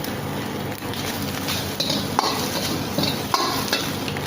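Eggs stir-fried in a wok for chicken Hakka noodles at a street food stall: steady loud sizzling with repeated metal spatula scrapes and clanks against the pan.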